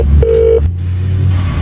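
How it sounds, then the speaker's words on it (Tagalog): A cellphone rings with a short electronic tone over a low steady hum in a dramatic scene, with no one speaking. "Nagsigigring ang cellphone ni Roger."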